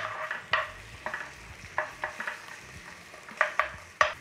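Onion frying in olive oil, a soft sizzle broken by irregular stirring scrapes and taps of a utensil against the pan, close and fairly quiet.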